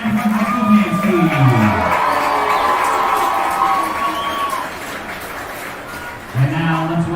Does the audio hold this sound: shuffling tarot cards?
no